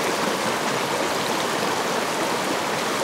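A creek swollen with chilly spring snowmelt runoff rushes steadily and loudly up close, a dense continuous wash of flowing water with no other sounds.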